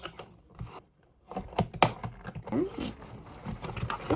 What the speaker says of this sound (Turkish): İlk önce bantlarını açıyorum.